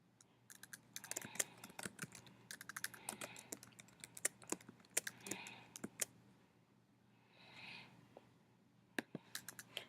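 Quick bursts of clicking keystrokes on a computer keyboard while Python code is entered, close and fairly quiet, arriving in uneven clusters with short pauses between them.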